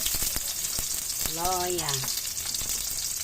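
Onion and ginger sauté in a pan with a steady, close, hissing sizzle and occasional stirring clatter, while a brief voice-like tone rises midway.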